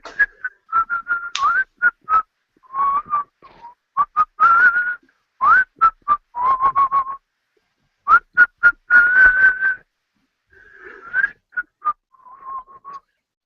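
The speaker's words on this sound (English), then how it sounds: "I'll be sort of whistling away as I'm scrubbing the deck" A person whistles a merry, bouncing tune alone in short phrases of clear, bright notes with brief pauses between, close and fairly loud.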